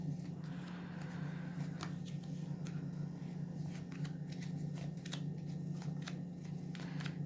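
Soft, continuous riffling of playing cards being shuffled close by, with small crisp ticks over a steady low hum.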